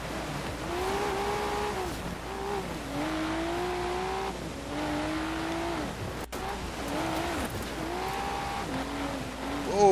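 A Nissan R33 Skyline drifting with the e-brake in Forza Horizon 4, its engine revving in repeated rising and falling surges with tire squeal, a brief dropout midway, loud and close with no talking.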